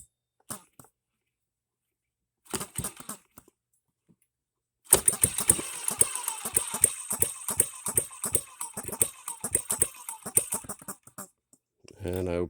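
A small HM-01 hit-and-miss model engine fires after a few brief starting attempts, then runs with a steady, rapid train of sharp, close popping beats that end in a short burst of noise.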